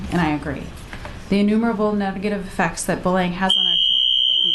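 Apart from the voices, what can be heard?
fire alarm going off during a legislative hearing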